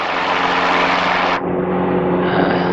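A small propeller plane's engine in Flight Simulator 2020 drones steadily and loudly, a constant hum with no voices and a sudden change in tone midway.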